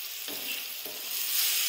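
Fried okra is stirred into sizzling onion masala in a pan, a soft steady sizzle broken by two brief scraping stirs, no voices.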